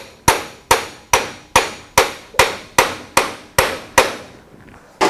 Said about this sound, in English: tap the top of the arbor press.